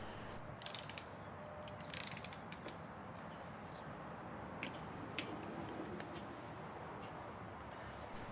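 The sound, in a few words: torque wrench clicking while tightening Kawasaki clutch nuts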